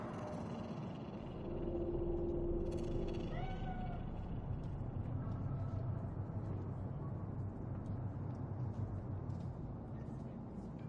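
A stray cat in the video game Cyberpunk 2077 meows a few times in Night City, faint and drawn out, over a steady low ambient rumble with no talk during the calls.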